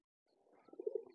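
A pigeon coos nearby, a soft low throaty burble rising into a few brief pulsing notes, faint and alone.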